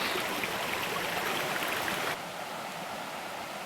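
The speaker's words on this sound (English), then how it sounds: "At the top of Chestnut Cove Branch Falls, which is actually on North Harper Creek" Chestnut Cove Branch Falls on North Harper Creek in Pisgah National Forest, a steady loud rush of falling water heard up close from the top of the falls, slightly quieter after a sudden shift partway, no voices.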